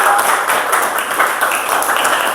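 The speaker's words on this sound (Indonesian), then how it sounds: "Kita berikan tepuk tangan yang meriah untuk kelompok 3" Audience applause for a presenting group in a university classroom session, a steady wash of many hands clapping at moderate loudness for a couple of seconds.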